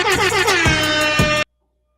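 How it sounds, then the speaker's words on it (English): A loud, blaring air horn sounds continuously for about a second and a half with pulsing bursts, then cuts off abruptly into silence. "We got the air horns going on the video."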